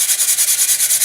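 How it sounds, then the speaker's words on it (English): Steady rhythmic sanding of a J&H Aerospace Aleda R series model rocket boost glider, a rasping scrub repeating about nine times in quick back-and-forth strokes, close and fairly loud. "You can do a little bit of sanding around here."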